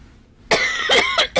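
Several coughs in quick succession from a woman playing Path of Exile, close and fairly loud, the first strongest and the others trailing off in short bursts.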